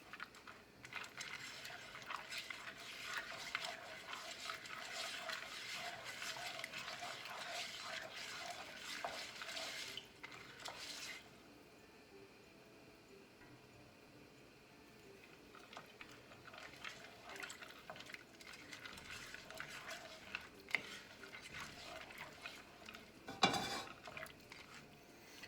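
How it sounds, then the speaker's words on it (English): Broccoli in alfredo sauce stirred in a pot for chicken alfredo, a continuous scraping and bubbling sizzle that drops away midway, then returns, with a couple of sharp metallic clinks near the end. "So keep stirring it."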